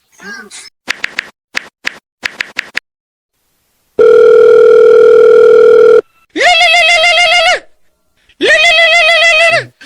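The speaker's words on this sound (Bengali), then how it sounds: "ফোন তো আপনার আইছে, ফোন ধরেন" A phone rings loudly and close by: a melodic tone pattern, then a long steady tone, then two warbling ring bursts with short pauses between.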